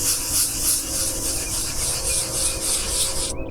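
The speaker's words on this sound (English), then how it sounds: "Now we'll wet sand it to 600 and put paint on it." Car primer is wet sanded by hand with 600 grit sandpaper, giving a close, steady rhythmic rasping with repeated back-and-forth strokes.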